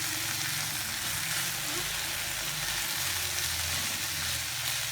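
Noodles with soy sauce get stirred in a hot pan, giving a soft continuous sizzle with low stirring rumbles underneath, fairly quiet and even throughout, with no talking.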